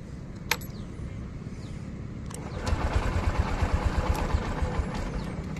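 A Honda Livo 110 motorcycle is cranked and its engine catches, settling into a close, loud, rapid rhythmic putter after a few seconds of whirring and clicks, with no talk.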